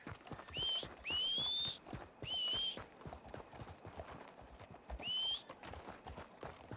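Horse hooves clip-clop in a video game, a rapid close trot of hoofbeats throughout, broken by three bright rising whinnies, with faint speech in the background.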